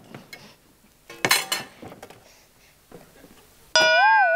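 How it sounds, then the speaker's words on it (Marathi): A griddle pan lifted off a gas stove in a home kitchen, with metal pans clanking and clinking in a few sharp bursts, followed by a sustained ringing tone at the end. "गॅसवरचा तवा काढ आणि तेल ठेव."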